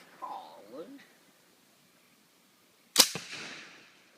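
A single silenced gunshot from a machine gun at an indoor church event cracks sharply and close, with a short ringing tail; people talk softly just before it.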